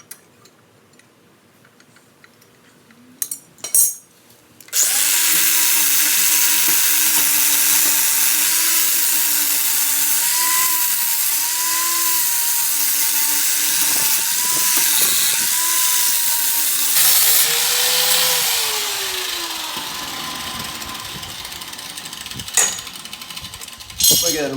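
An angle grinder cuts down a steel mid plate on a car during a solid motor mount install, a loud steady whine sustained for about twelve seconds, then a lower pitched grind dropping in tone before stopping, with faint clicks around it.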